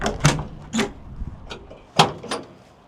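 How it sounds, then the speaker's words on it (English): Doors of a 1970 Chevrolet K10 pickup truck opening and closing, a few sharp latch clunks and thuds spaced out over a few seconds, close and clear with no talk. "All right, smooth action on the doors."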